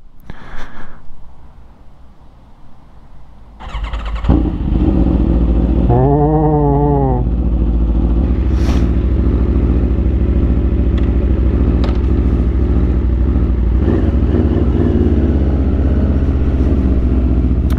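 An Aprilia RSV4 sport motorcycle engine starts and settles into a loud, steady idle close by, with a few sharp revs rising and falling over it.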